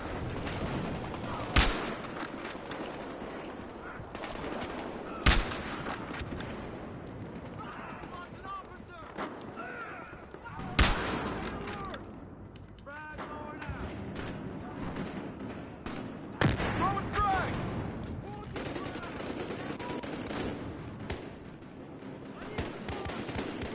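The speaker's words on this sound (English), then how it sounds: "Taking heavy fire!" Battlefield Hardline game gunfire sounds as sharp, sparse loud shots spaced several seconds apart, with busy lower-level crackle and chatter filling the gaps between them.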